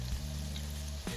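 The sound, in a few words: batter-dipped eggs frying in oil for egg chilli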